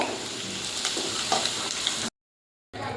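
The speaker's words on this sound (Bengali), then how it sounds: "আলুগুলোকে ভেজে নিচ্ছি" Potato pieces fry in hot oil in a Bengali home kitchen, giving a continuous bright sizzle with occasional stirring clinks. The sound cuts to silence briefly before the sizzle resumes.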